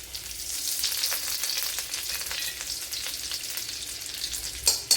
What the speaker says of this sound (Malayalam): ഇതുപോലെ ബട്ടർ ഇട്ട് കൊടുക്കുക കുറച്ച് വെളിച്ചെണ്ണ ഒഴിച്ചു കൊടുക്കുക